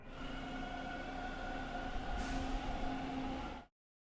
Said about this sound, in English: Did I just hear a train?